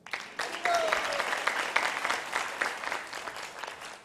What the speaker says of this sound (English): Let's give a round of applause to Sai Prabhu.